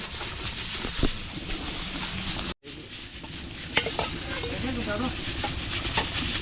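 A pot bubbles and hisses steadily on the stove, and a few soft clinks of stirring come through close by, as food is cooked for catering at a private resort in Sta. Rita, Pampanga.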